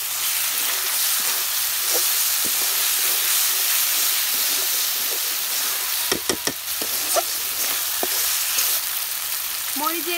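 Quail meat fries in a pan with garlic and cumin paste, a steady close sizzle and hiss with occasional stirring scrapes and clatter, plus a brief burst of louder bubbling near the end.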